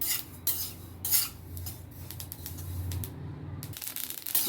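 Sesame seeds dry-roasting in a hot pan, stirred with a metal spoon: steady rustling, scraping texture with sharp clinks of utensil against the pan at irregular moments, close and clear.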